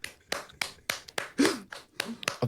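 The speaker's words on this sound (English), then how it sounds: "I don't know if you could hear that, but I was clapping." One person clapping hands indoors, about eight separate sharp claps in an uneven rhythm, close and fairly quiet, with no talk over them.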